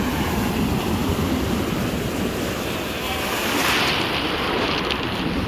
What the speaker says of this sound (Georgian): აბა დიდი ტალღა მოდის